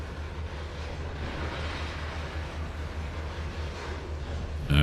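A train in the Trainz 2022 simulator game, Midwestern Rails route, passes with a continuous low rumble and wheel noise that stays steady for several seconds before a sudden louder burst at the end.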